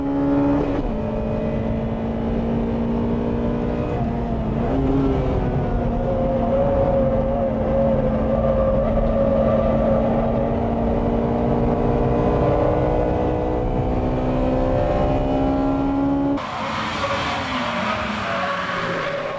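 Racing cars, including a Mazda RX-7, in a 7-lap race: a loud, continuous engine drone with shifting pitch as the cars run hard, changing abruptly near the end.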